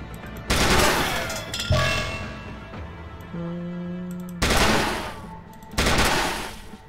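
Gunfire from the turn-based video game SteamWorld Heist: two separate loud shots, each a sharp burst with a ringing tail, plus smaller in-game clanks and a sustained tonal effect between them, with no talking.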